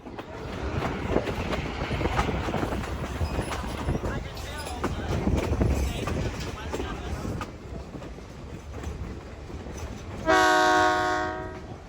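A Great Smoky Mountains Railroad train rumbles and clacks along the rails for about ten seconds, then its horn sounds one loud, sustained blast near the end.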